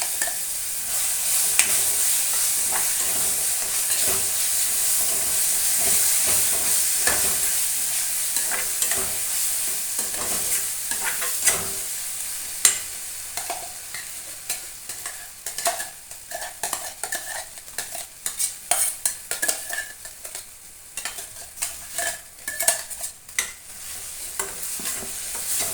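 Raw mango chutney with ground ginger, garlic, chilli powder and salt bubbles and sizzles in a pan while a spoon repeatedly scrapes and knocks against the metal, the stirring growing busier and more clattery toward the end.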